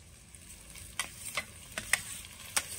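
Greens tossed with fried shrimp in a pan for a Bengali home recipe: a soft, low sizzle runs under scattered light spatula scrapes and clicks, all fairly quiet and close.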